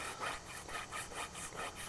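Grey compound rubbed onto a strop used for sharpening an axe, a steady rhythmic back-and-forth scrubbing, about eight even strokes, close and soft with no talking.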